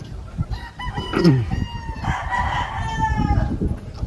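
A gamecock rooster crows on a gamefowl farm, one full cock-a-doodle-doo rising and falling nearby, with clucking and other farm birds in the background.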